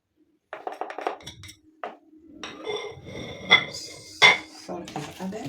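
Spices and salt go into a cooking pot for Kenyan-style chicken biryani, heard as a string of close metallic clinks and taps of spoon and containers against the pot, with quiet pauses between.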